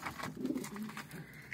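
Umbrella-loft pigeons coo softly in their loft, with low, rolling, repeated calls close by and no voices.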